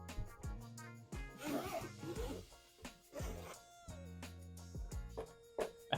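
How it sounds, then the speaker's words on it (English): A Steam Deck carrying case is unzipped close up, a few short rasping zipper pulls, with faint background music throughout. "unzip it."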